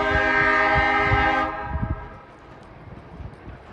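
A freight grain train with older GE and EMD locomotives sounds a loud, sustained multi-tone horn in snow on a short line, which cuts off, leaving a rumble and rhythmic clatter of wheels passing nearby.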